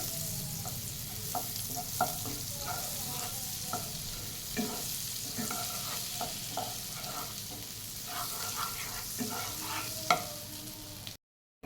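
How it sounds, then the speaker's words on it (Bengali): Butter melts and sizzles in a pan on the stove, a steady close crackling hiss with occasional stirring scrapes and soft taps, continuous and even, no voices. "বাটারটাকে মেল্ট হওয়ার মতো সময় আমাকে দিতে হবে।"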